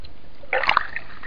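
A single splash and slosh of water as someone dives under in an inflatable-float pool session, short and fairly close, with no talking.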